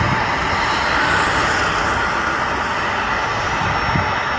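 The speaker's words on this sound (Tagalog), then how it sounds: "makita na aeroplano." An airplane passes close to an airport as a loud, steady engine roar with broadband rushing noise, slowly shifting in pitch as it goes by, and no other sounds on top.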